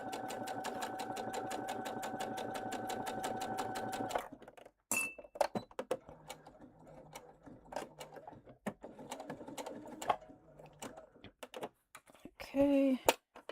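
A sewing machine runs steadily for about four seconds in a fast, even whir of stitches, then stops and gives way to scattered clicks and handling noises, with a brief whine near the end.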